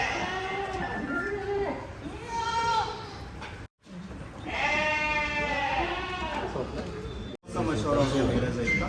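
Kota goats on a goat farm give repeated wavering bleats, near and loud, in long cries broken by short gaps.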